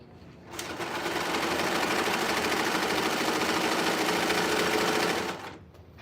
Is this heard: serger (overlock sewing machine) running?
yes